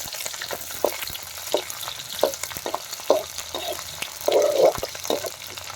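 Onions fry in hot oil in a wok over an outdoor fire, a close sizzling hiss broken by repeated rhythmic scrapes and stirs of the spatula, no speech.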